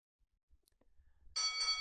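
Ringside bell at a PXW Championship wrestling match, sounding as one sustained, bright metallic ringing that begins abruptly after a few soft thumps and rings on steadily and loudly.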